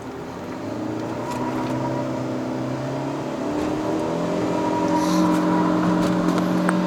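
A 2022 Proton Persona 1.6 Standard CVT climbing a mountain road to Genting: a steady, loud engine drone heard from inside the cabin, its revs sagging and then rising again while the throttle is released.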